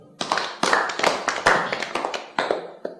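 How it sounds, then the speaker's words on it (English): A class claps for a student, a short burst of uneven hand claps from a small group, close and lively, fading into scattered claps by the end. "Let's clap for him."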